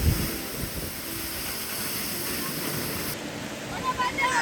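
Large waterfall near Pale village with a cave behind it, a steady broadband roar of falling water filling the whole stretch, wind buffeting the microphone and a person speaking briefly over it.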